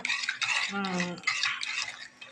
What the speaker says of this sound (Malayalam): ഇത് കട്ട കെട്ടാതെ ഇളക്കിയെടുക്കുക